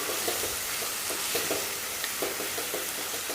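Tomato chutney with chopped coriander is stirred in a pan as it sautés, giving a soft, steady sizzle broken by rhythmic scraping strokes of the spoon, with no talk.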